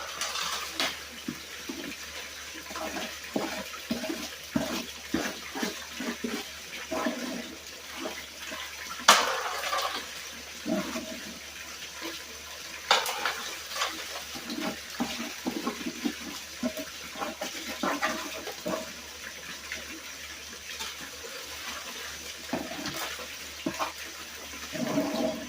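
Gold-bearing clay and sand being washed by hand in a tub of water, with repeated sloshing and swirling splashes that come in uneven bursts, close and moderately loud, with no talking.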